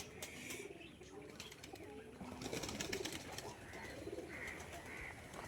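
Pigeons coo in a zoo enclosure, with soft low calls and occasional wing flaps rising and falling steadily over the ambient background.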